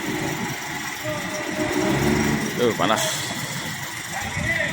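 A Hino RG chassis bus with an Avante H7 body, a replacement for the Sinar Jaya fleet, idles with a low, steady engine rumble under continuous nearby talk.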